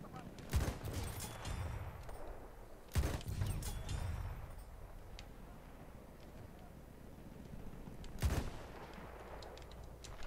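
Martini-Henry rifle shots in a first-person shooter game, three sharp booming reports spaced a few seconds apart over ongoing battle noise.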